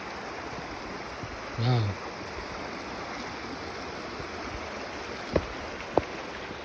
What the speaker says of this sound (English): This is the Chickamuaga Creek.